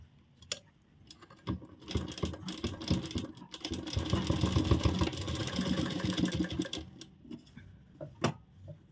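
A sewing machine stitches a zip pocket, starting with a few short bursts and then running in a continuous rapid whirring chatter for several seconds before slowing to scattered clicks, close and alone.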